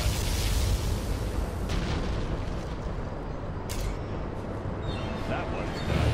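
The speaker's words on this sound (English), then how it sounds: "Particle cannon activated." A continuous heavy roar of a particle cannon blast in Command & Conquer Generals Zero Hour, dense and rumbling throughout, with faint crackling swells rising and falling.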